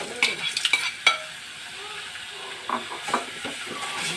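Pork stir-frying in a hot pan, sharp scraping stirs and clinks of a utensil over a soft continuous sizzle, with bursts of activity at the start and again near the end, close and fairly loud.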